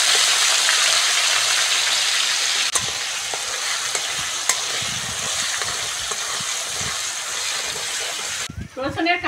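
Garlic paste sizzles and fries in a pan while being stirred, a continuous close hiss with scraping stir strokes, ending in a brief burst of louder clatter.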